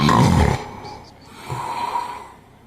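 A loud, rattling snore opens the clip, followed by a quieter breath and a softer second snore, close up and alone.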